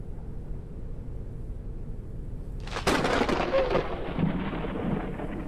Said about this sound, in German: Kann es bitte aufhören zu gewittern?